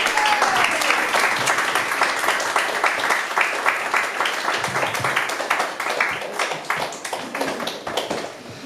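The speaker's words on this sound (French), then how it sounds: "Et on l'applaudit bien fort." An audience claps loudly and steadily, with the sound thinning slightly toward the end as the applause winds down.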